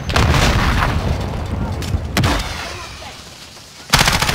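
Loud close gunfire in the video game Call of Duty, dense rapid automatic bursts with heavy booming impacts running throughout, ending in a sharp louder blast.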